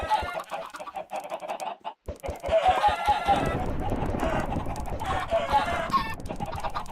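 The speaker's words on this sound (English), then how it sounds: "let's repopulate our chickens by throwing eggs at them" Minecraft chickens clucking in rapid bursts as eggs are thrown at them, with sharp repeated clicks of the egg throws, several birds overlapping close by.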